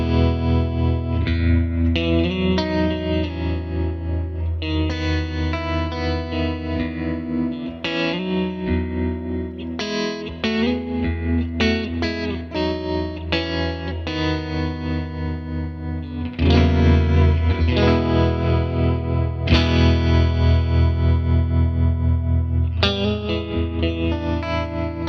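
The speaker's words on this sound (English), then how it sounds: "The depth, so you're increasing the intensity of the tremolo." Guitar through a Tone King Imperial preamp pedal with tremolo at increased depth, chords and melodic lines throbbing in deeper, more pronounced pulses, loud and continuous with no voices.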